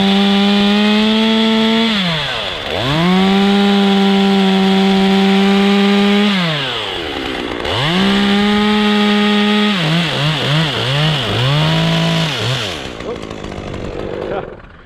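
A chainsaw cuts a limb off a dry, crispy dead tree, loud and close, its engine holding high under load, dipping and revving in long swoops, then stuttering in quick bursts before trailing off.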